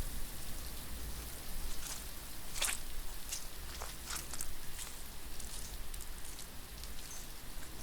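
Steady rain hisses and patters continuously, with a few sharper drops standing out against the constant wash of sound.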